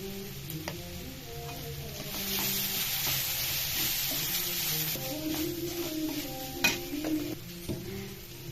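Ginger and turmeric fry in oil in a pan for a mutton and cucumber curry, giving a steady close sizzle broken by scattered clicks and scrapes of stirring, with no voices.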